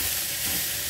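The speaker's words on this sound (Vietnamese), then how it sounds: "Rồi, chúng ta xào. Xào nó gần chín thôi nha." Vegetables stir-frying in a pan, a steady close hiss of sizzling oil heard alone in a brief snippet.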